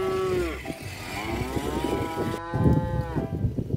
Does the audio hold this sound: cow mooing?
yes